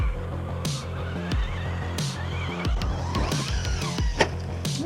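A radio-controlled Hoss bashing truck drives and jumps on a rough runway, its whining electric motor revving and surging under scattered clicks and knocks of the tires and chassis on the surface.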